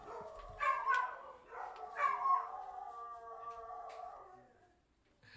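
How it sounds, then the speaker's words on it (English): Dogs barking and howling, two drawn-out howling barks followed by a long wavering howl that fades out, close and clear with no talk over it. "So the dogs bark at the big dog in the sky once in a while."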